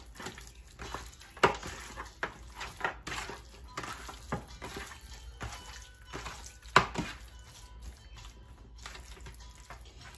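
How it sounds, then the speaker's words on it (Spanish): A spoon stirs pork rib stew in a metal pot, quiet scraping with scattered sharp clinks and taps against the pot, irregular and close, with no talking. "Y vuelvo a revolver un poquito."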